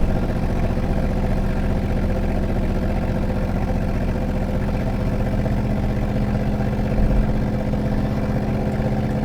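A donk car's engine drones steadily at about 70% throttle, a loud, low, rumbling tone with a faint rhythmic clatter, holding constant and close with no talk over it.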